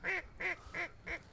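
Zink duck call blown at a calling contest finals in Reno, Nevada, imitating a mallard: four evenly spaced, raspy quacks in a steady descending rhythm, close and clear, with no talk over them.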